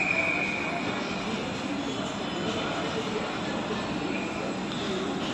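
Two SuperVia commuter trains arrive almost together at platform 8 of Central do Brasil station in Rio de Janeiro, making a steady, loud, unbroken mechanical roar that holds level for several seconds.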